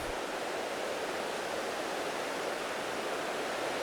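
Clean creek water rushing steadily, a broad even hiss of flowing water close by, with no voices.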